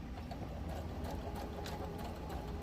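A sewing machine back stitching through fabric while making a holiday bookmark, giving a steady, close, continuous mechanical whir and needle chatter for a few seconds, with no talking.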